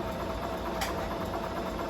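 A home sewing machine runs a quarter-inch seam on a quilt block at a short stitch length, a steady close whirring hum with no pauses across the brief stretch.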